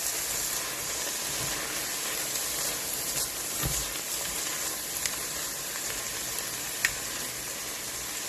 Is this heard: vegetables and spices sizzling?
yes